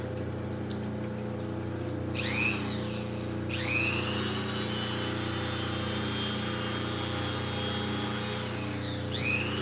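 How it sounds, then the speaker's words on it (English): A larger Dremel rotary tool grinds gems with a loud, continuous whine whose pitch dips and rises as it bites into the stone, over a steady mechanical hum. "I'll grab my bigger Dremel here. This isn't my favorite. It's so loud."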